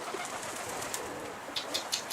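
Pigeons cooing in a flock kept for flying, with soft repeated calls over steady, broad background hiss and a few brief brighter chirps near the end, moderately distant with no talk.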